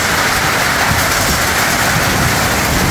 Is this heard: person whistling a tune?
no